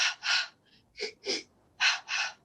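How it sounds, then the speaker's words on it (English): Breathing exercise done in pairs of quick sniffing inhales followed by airy exhales, three rounds of close, breathy gasps separated by short pauses, no speech. "you could like do one where you breathe in like twice and then exhale"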